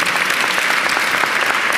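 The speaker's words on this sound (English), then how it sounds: "I want you to applaud for all of them." An audience at a New York City mayoral announcement about homelessness applauds, a dense, steady wash of clapping from a sizable crowd that holds evenly throughout.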